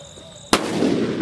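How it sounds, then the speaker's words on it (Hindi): A Sunshine Super Mega Bullet firecracker bursts in a single sharp, loud bang during Diwali cracker testing, followed by a rumbling, crackling tail that fades over the next second. "ऑसम धमाका भाई, काफी खतरनाक धमाका था सुपर मेगा बुलेट का।"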